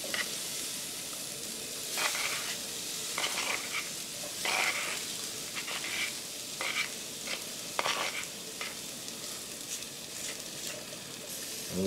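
Potatoes frying in a skillet for a breakfast burrito: steady soft sizzling and crackling with intermittent louder spits and pops, fairly close and without talk.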